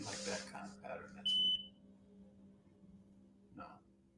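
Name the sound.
electronic beeping in an unusual pattern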